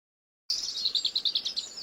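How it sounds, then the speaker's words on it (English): After a short silence, a robin at a garden bird feeder sings close by: a bright run of about a dozen rapid, high chirping notes with no other sound. "You may even start to learn the behaviour of small birds, like this cheeky robin."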